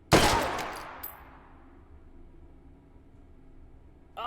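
A single Madsen LAR rifle shot in the H3VR virtual reality game, loud and close with a sharp crack and a long decaying tail, followed by a faint metallic clink and near silence.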